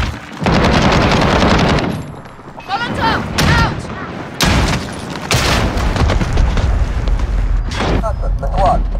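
Gunfire, explosions and booms from Call of Duty: Modern Warfare Team Deathmatch, loud and dense throughout, with game voices shouting callouts over the shooting.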